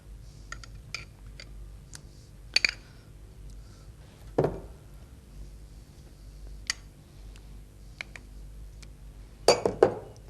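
Chicken being mixed with ginger-garlic paste in a bowl for biryani: sparse, faint clinks and taps of utensil against the bowl, a few sharp knocks spaced over a quiet background, no voices.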